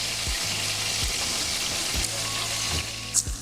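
Curry leaves and onion frying in a pan at a village kitchen while goat leg soup is made, giving a dense, even sizzle close by with a few soft stirring knocks and no voices over it.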